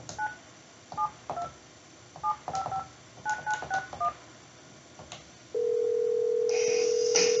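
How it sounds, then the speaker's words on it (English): Someone dials a desktop phone to call an ESI ePhoneGO 2 Android handset: clustered touch-tone beeps sound in short bursts, then a steady ringback tone starts and holds near and clear, with no talking. "I'm going to call from a desktop phone to the ePhoneGO that you're looking at in the screen"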